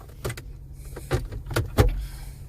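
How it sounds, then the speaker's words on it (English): Electric sunroof blind in a Nissan Qashqai 1.2 DiG-T N-Connecta sliding with a series of short motor whirs and soft mechanical clicks, close and fairly quiet inside the cabin. "that blind, as you can hear and see, is electronic."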